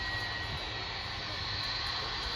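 A 30-year-old Jet2 Boeing 757-200 jet lands at Manchester, UK, its engines producing a loud, constant roar with a steady whine, close and unbroken.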